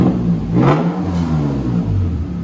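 A Toyota Tacoma 3.5L V6 truck with an aftermarket exhaust revving up and holding a throaty rumble, continuous and close, with a brief rising surge early on.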